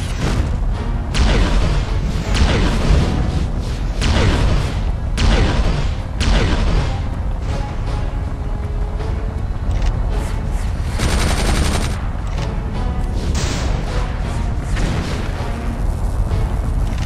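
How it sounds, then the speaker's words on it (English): Proton cannon firing in the Iron Man video game, a run of heavy booming blasts and crashing impacts, loud and repeated at irregular intervals with dense rumbling between shots. "Proton cannon"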